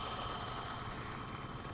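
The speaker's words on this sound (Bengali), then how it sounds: "এই ছোটো মোটর ধীরে ধীরে চলছে" A small CF pump motor pressed into service as a mud pump runs slowly and steadily, giving a continuous low broadband hum with a faint whine, fairly near and unbroken.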